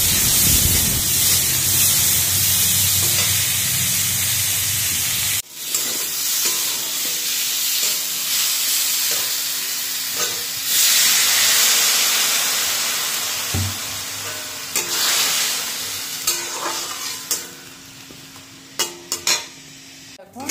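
Mango chutney cooking in a pan gives a loud steady sizzle and hiss with occasional utensil scrapes and clinks, close up and continuous with no talk.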